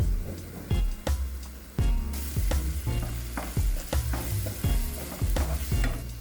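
Spices sizzle and crackle in a hot pan for egg keema masala while a spoon stirs them in repeated scraping strokes, close and fairly loud with no talking.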